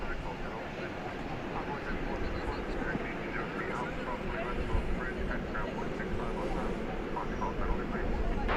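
An American Airlines Airbus A321 at DFW Airport at night gives off a broad, steady engine rumble that builds slightly over the stretch, a distant, even jet roar without other clear sounds.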